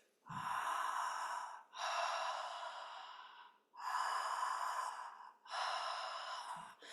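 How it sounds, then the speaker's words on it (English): Connected breathwork breathing, a steady loop of long airy inhales and exhales through a relaxed open mouth, four rushing breaths flowing into one another with no pauses, close and soft. "there is a continuous cycle of breathing that doesn't stop and pause"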